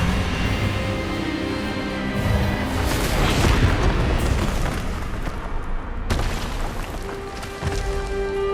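A magical Expelliarmus spell blast booms loudly in the video game Hogwarts Legacy, a dense rumbling burst that swells over a couple of seconds amid dramatic background score, then fades.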